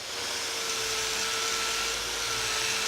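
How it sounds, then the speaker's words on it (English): A Vortex abrasive wheel on a power tool grinds and finishes a stainless steel fillet weld, giving a steady continuous whirring hiss with a faint even tone and no breaks. "The Vortex wheel is soft, fast cutting, easy to use with no vibration."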